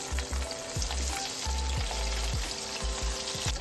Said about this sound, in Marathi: डबल फ्राय करून घ्यायचे आहे।